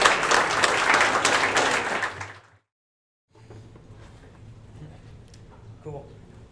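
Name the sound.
audience applause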